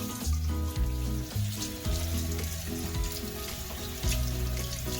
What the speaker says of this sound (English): now we're going to be rinsing our hands with the water